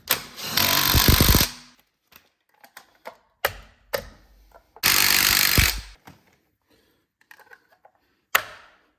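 Bursts of a pneumatic impact wrench rattle loudly tightening wheel nuts on a Volkswagen Golf, two long runs and several short hits, separated by quiet pauses with small clicks.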